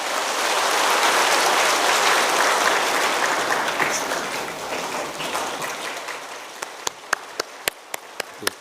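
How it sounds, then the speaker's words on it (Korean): A church congregation claps warmly during a Sunday service, a dense wash of applause that thins out toward the end into a few scattered individual claps. "뜨거운 박수로 우리 축하하며 환영합니다."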